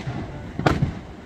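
Chico fireworks going off, a single sharp crackling burst near the middle followed by a softer pop, over a low background rumble.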